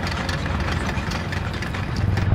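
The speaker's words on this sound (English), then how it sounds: "I thought I recognised the engine sound." Engine of a Chi-Ha Kai tank in the War Thunder video game, a steady low rumbling drone with a constant mid-range growl, close and loud with no other sounds over it.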